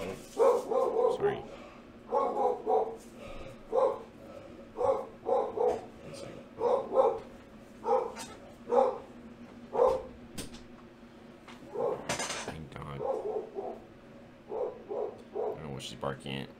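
A dog barks repeatedly in steady bursts, fairly close and loud, with a few short pauses and a sharper yip near the middle, while a person talks quietly underneath.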